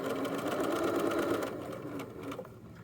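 A sewing machine stitching a U-seam on joggers, a fast, steady mechanical whirr close up for about a second and a half, then slowing and fading with a few light clicks.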